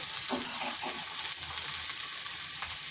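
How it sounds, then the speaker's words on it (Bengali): Ground cumin, coriander, chilli and turmeric powders sizzling in hot oil, a continuous soft frying hiss with a few light stirring scrapes, close and fairly quiet. "এরপর এখানে মশলাগুলো দিয়ে দিচ্ছি দিয়ে দিচ্ছি জিরে গুঁড়ো ধনে গুঁড়ো লঙ্কার গুঁড়ো আর হলুদ গুঁড়ো"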